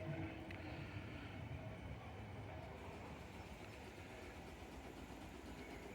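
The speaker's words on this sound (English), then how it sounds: "Oh, mate, your train's leaving." A low, continuous rumble of a train rolling in, with faint rail clatter and distant murmuring voices on a platform, steady and fairly quiet.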